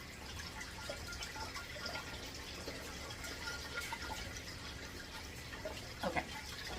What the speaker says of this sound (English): this water is going to recirculate